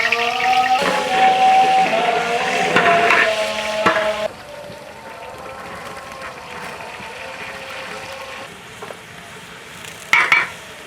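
Meat frying with all its spices in a cooking pot, a loud sizzle under steady stirring scrapes for about four seconds, then a quieter bubbling simmer with one sharp clatter near the end; no one speaks.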